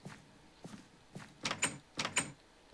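Doors in the video game 7 Days to Die open and close in a series of short knocks and sliding thuds, growing louder toward the end, with no talking.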